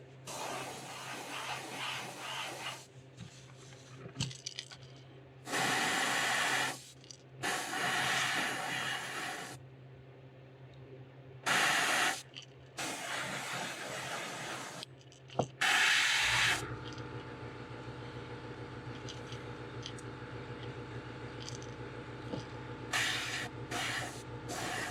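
An airbrush hisses in repeated short bursts of spraying reddish-brown paint onto a crawfish fishing lure, with quieter pauses between, close by and without talk.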